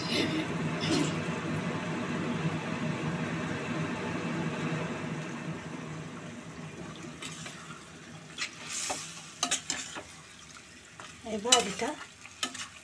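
Goat meat being sautéed and stirred in a pan for a thin curry, with a steady close sizzle and scraping stir strokes, while someone speaks briefly over it.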